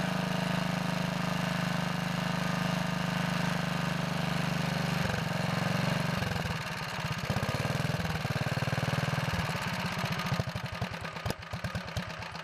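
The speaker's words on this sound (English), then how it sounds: "I set the needle where the engine runs the best." A Kohler engine on a Wheel Horse Model 401 lawn tractor runs during carburetor adjustment, idling steadily at first, then turning rough and uneven, sputtering and pulsing toward the end.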